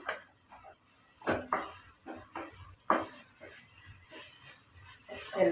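Vermicelli kichadi stirred in a pot: faint, soft scraping strokes and light clinks over a low sizzle, spaced irregularly and heard close.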